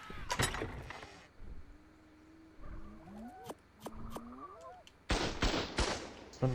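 A base turret in ARK Survival Ascended fires loud, close bursts of gunfire at the start and again near the end, with scattered sharp shots and some tonal game sounds in between.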